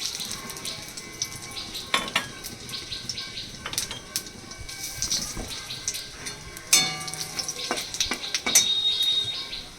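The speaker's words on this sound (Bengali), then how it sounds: "এবার আমি এর মধ্যে দিয়ে দিচ্ছি তেজপাতা আর সাদা জিরে" Bay leaves and cumin seeds dropped into hot oil in a pan, a steady close sizzle with scattered clinks of utensils against cookware throughout, no talking.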